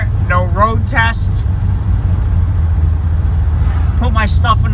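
Car out on a road test after a piston replacement, a steady low engine and road rumble running throughout beneath intermittent speech.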